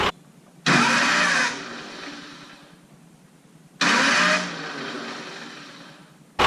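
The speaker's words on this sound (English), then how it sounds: "the starter and the billet flex plate, I do believe, not meshing up together correctly, making that grinding noise" Two bursts of harsh mechanical grinding as a starter fails to mesh with a billet flex plate, each followed by a fading rumble, with quiet pauses between.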